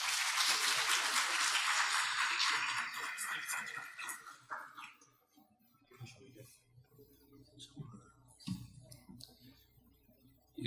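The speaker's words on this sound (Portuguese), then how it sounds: "Por favor, salva de palmas." Applause from a seminar audience at an ethics forum in São Paulo, a dense wash of clapping for about four seconds that thins and fades, followed by quieter room noise and a speaking voice.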